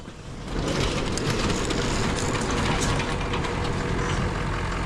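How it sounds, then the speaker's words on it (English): An old work truck's engine clatters loudly and steadily at close range, a rough rumbling idle that holds even after a slight rise in the first second. "Was that clatter enough for you?"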